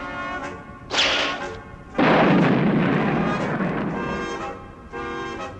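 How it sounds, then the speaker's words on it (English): Cartoon gunfire with bullets ricocheting off the hero Underdog, heard as a loud sharp burst followed by a sustained noisy blast, with tonal music-like ringing between the shots. "The bullets are bouncing right off him, Eel."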